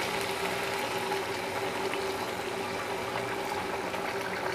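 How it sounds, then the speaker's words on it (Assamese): Fish curry of rohu and black sesame bubbles steadily in a pot just after hot water goes in, a continuous close, soft boiling churn with no talking over it. "চাওকচোন কিমান ধুনীয়াকৈ উতলি আহিছে গৰম পানীখিনি দিয়াৰ লগে লগে"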